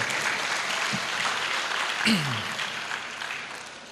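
Audience applause at an Islamic lecture hall gathering, a steady wash of clapping filling the whole span at moderate level, with a brief voice sliding through midway.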